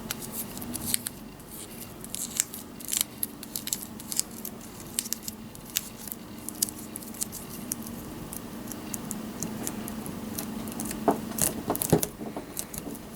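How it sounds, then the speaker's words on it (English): Electrical tape being pulled and wrapped over a DIY net hook, a steady close rustle of crackly scratchy sounds with small sharp snaps, quicker near the end, no talk. "as we take our electrical tape over it and finish that part of the project"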